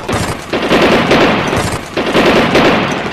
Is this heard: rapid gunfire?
yes